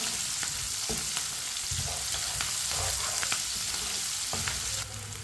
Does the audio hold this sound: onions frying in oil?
yes